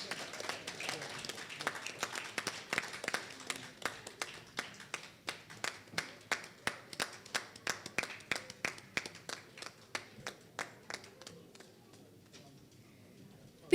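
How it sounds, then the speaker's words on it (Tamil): Audience clapping at an award ceremony as a third-place prize winner is called to the stage, a steady run of sharp hand claps that gradually thins and fades out toward the end. "அனைவரும் கைத்தட்டுமாறு அன்போடு கேட்டுக்கொள்கிறேன்"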